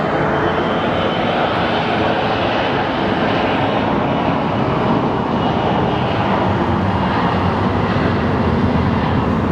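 Jet engines of a Boeing 737 MAX airliner at Phoenix Sky Harbor airport on a rainy day roar loudly and steadily at close range, forming a dense unbroken rumble with no pauses.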